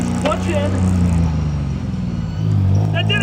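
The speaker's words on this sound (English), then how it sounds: "I'm gonna attempt a gear change" Engine of a 1998 Piaggio auto rickshaw drones with a steady low rumble through a gear change, its tone dipping and then rising again near the end of the shift.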